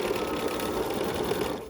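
A sewing machine stitches a quilt block along a marked line, its needle running in a fast, even mechanical chatter up close for a brief moment.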